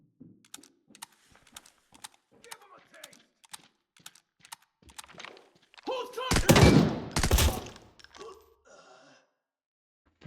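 Sharp, rapid clicks tick along steadily, then a burst of loud gunfire erupts briefly before fading back to quiet clicking, in the shooter game Arena Breakout Infinite.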